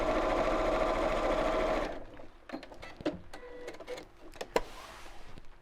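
A sewing machine stitches a quarter-inch seam on a clutch bag, using the presser foot edge as a guide: a steady, close whir for about two seconds, then it stops, leaving scattered handling clicks and taps.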